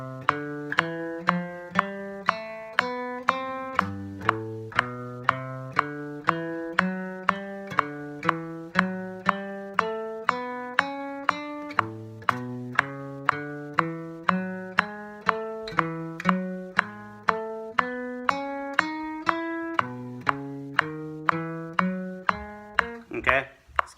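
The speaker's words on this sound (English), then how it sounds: "What I do is I actually do them to a metronome." Metronome ticking steady quarter notes at 120 bpm, about two clicks per second, under a scale played note by note in time with it, moving up and down for about 24 seconds.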